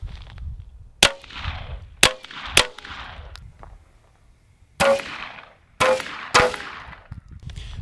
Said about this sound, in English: next we're gonna shoot it with the Ruger P10C